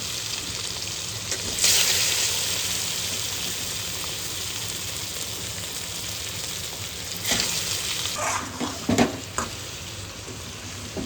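Freshly caught monsoon fish frying in a spiced masala of turmeric, salt, chilli and oil, a steady sizzle with sharper crackling bursts near the start and again toward the end, close by and with no talk.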